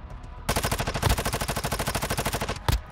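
Rapid automatic gunfire from the mobile shooter Warzone Mobile, a loud steady burst of evenly spaced shots lasting about two seconds, followed by one more sharp blast near the end.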